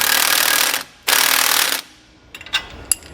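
On a 2015 Ford F-450, a power tool snugs down a shock absorber nut in two loud, sustained buzzing bursts, followed by quieter clicks and clanks of hardware.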